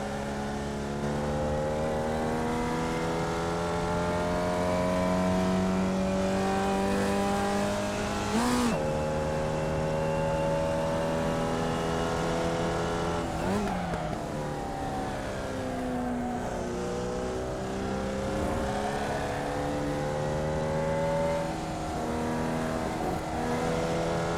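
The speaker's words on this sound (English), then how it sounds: "So let's just listen to the race for a little bit here." Formula Vee race car engines drone and rev continuously with rising and falling pitch, several cars passing close by over a steady roar.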